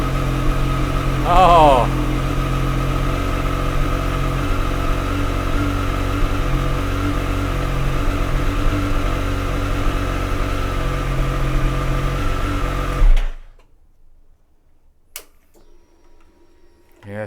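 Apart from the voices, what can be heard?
Triumph motorcycle engine starting and idling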